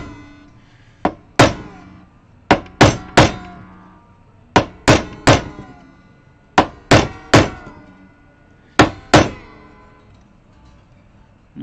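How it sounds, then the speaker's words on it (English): Hammer tapping during a guitar setup on a drop C guitar: a dozen sharp, close knocks in irregular clusters, mostly in pairs and threes, with brief ringing decay after each. "You want to make sure not to hit the string with your hammer."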